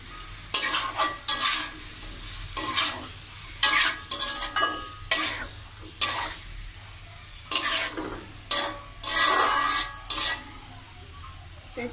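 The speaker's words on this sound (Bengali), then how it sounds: "মাছ দিয়ে মাছটা কিছুক্ষণ কষিয়ে নিব আমি" Fish sizzles and fries in a pan with oil while a spatula scrapes and stirs it in repeated bursts, the clatter rising and falling against a quiet sizzling background.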